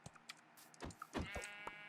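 A sheep in a video game server bleats faintly a few times in short wavering calls, quiet and alone with no talk.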